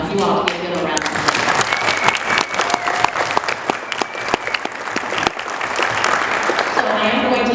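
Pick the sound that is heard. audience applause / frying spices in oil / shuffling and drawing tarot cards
audience applause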